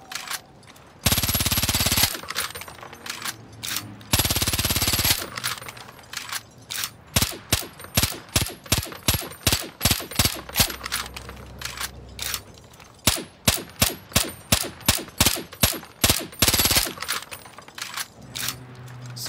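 Full-auto elite submachine gun firing piercing ammo in Far Cry New Dawn, long loud sustained bursts followed by a run of rapid individual shots with brief pauses, heard alone.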